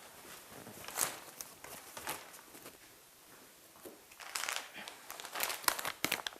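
A sterile disposable wrapped package is opened by hand, giving close crinkling and rustling bursts of wrapper material, sparse at first and then denser near the end, with no talking.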